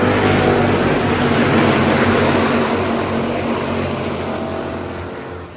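Hobby stock race cars roar around the Adams County Speedway during a feature race, a dense, loud engine drone that holds steady and fades slightly toward the end.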